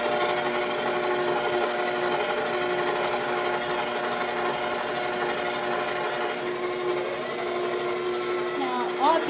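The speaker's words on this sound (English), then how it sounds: "the mixer's having a little bit of a hard time reaching everything" Stand mixer churning a small batch of flourless peanut butter cookie dough with egg, a steady whirring motor hum, close and continuous, with a voice speaking over it.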